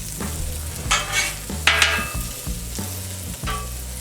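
Brisket and cheese sandwiches frying on a 36-inch Blackstone griddle, a steady close sizzle broken by repeated spatula scrapes and stirring scuffs on the metal surface.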